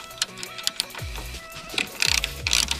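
A ratchet fitted with an 8 mm socket loosens a bolt on an Alfa Romeo 159 during accessory belt and alternator work, giving loud close bursts of rapid clicking pawl teeth with short pauses between strokes.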